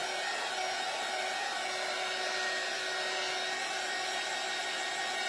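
A hair dryer blows steadily and loudly on a door hanger craft kit, a constant even rush of air with no breaks.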